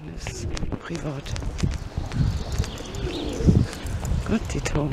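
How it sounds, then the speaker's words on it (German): Pigeons coo in a town street in Quakenbrück, a few soft, low calls rising out of steady street ambience with footsteps while people talk nearby throughout. "Gott, die Tauben."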